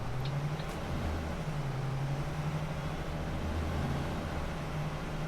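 A B9TL Gemini double-deck bus engine in the OMSI 2 driving simulator gives a steady, low droning hum throughout, with faint road rumble and no talk.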